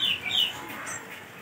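A young sooty-headed bulbul (East Java type) gives a few short, bright chirping calls at close range, alone over a faint background hum.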